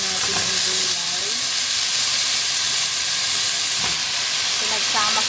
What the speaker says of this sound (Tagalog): Ilagay na natin yung gulay.